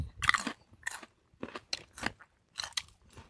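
Crisp bites and chewing of a fresh raw vegetable, eaten close up in several sharp crunchy bursts separated by short pauses, with no talking.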